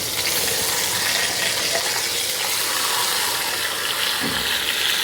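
Meat browning in a hot pan gives a steady, loud, close sizzle, a dense unbroken hiss that holds even throughout with no pauses.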